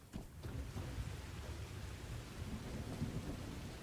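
Steady rain pours with low rumbling thunder in the video game The Last Caretaker, a dense continuous wash of noise at low volume with no voices.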